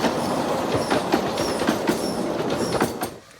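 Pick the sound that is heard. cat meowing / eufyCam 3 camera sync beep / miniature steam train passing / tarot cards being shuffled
miniature steam train passing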